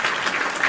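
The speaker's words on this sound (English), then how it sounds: "So round of applause" A brief burst of dense clapping from a live-show audience, steady and fairly loud with no gaps across the short stretch.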